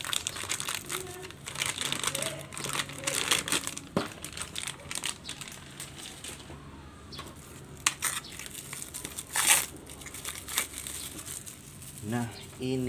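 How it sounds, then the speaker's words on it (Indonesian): Plastic wrapping around a new motorcycle exhaust manifold for a Yamaha Scorpio being crinkled and pulled open by hand, a close, irregular rustle running on and off under someone talking. "buka plastiknya."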